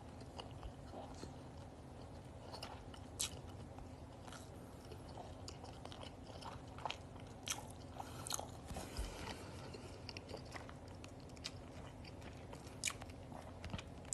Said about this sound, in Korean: 씹는 소리 나도 그만하고 싶다.